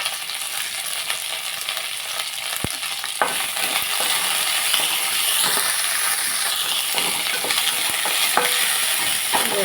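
Cumin seeds fry in a hot pan with steady, close sizzling and crackling throughout, a few sharp pops standing out, for a South Indian breakfast dish; no one speaks.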